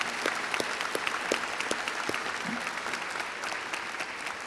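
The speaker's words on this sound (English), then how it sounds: "Let's give them a round of applause." Audience at a college fall commencement ceremony claps steadily, a moderately distant, dense patter of many hands that carries evenly throughout.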